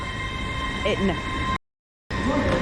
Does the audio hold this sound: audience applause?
no